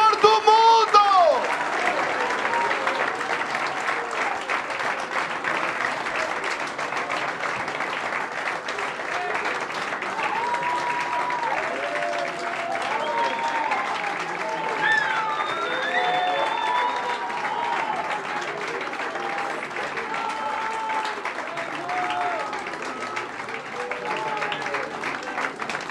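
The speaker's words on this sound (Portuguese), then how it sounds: "Se esse é um aplauso para o Salvador do mundo" Church congregation at a Sunday service applauding steadily and loudly for the whole stretch, with a voice talking over the clapping.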